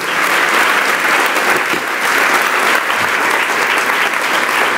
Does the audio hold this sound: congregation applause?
yes